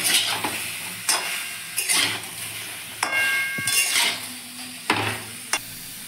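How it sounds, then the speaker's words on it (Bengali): Ash gourd pieces are stirred in a wok while making sweet murabba, with irregular metallic clanks and scrapes of a spoon against the pan over a faint background hiss, close and moderately loud. "দিয়ে হালকা একটু নাড়াচাড়া করব।"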